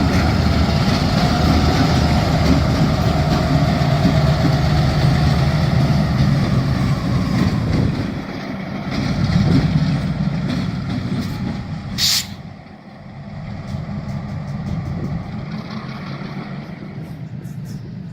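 CN SW1500 switcher locomotives working cuts of cars in a rail yard at sunset, a loud, steady diesel rumble with a brief sharp hiss of air midway, then a quieter idling drone.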